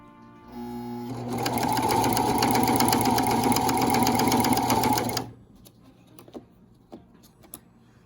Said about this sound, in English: I'm just gonna try to sew this on with the machine, even though it's pretty thick